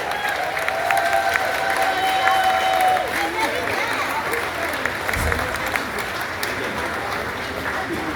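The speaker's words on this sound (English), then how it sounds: "please accept a huge round of applause from all of us here today" Passengers aboard the cruise ship Wonder of the Seas applaud veterans at a tribute ceremony, with a sustained, fairly loud burst of clapping mixed with some cheering and a brief whistle early on.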